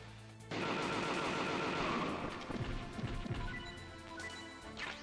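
Gunfire erupts in the video game Metal Gear Solid: a sudden loud burst of rapid shots and crashing impacts that tapers into scattered hits and game effects, with no talk.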